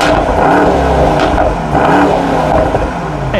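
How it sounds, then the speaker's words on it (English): Exhaust of a 2019 Mercedes-AMG GT four-door accelerating in sport mode, a loud, steady engine roar rising and surging through the whole stretch with no talking. "Take a listen to the exhaust in sport mode."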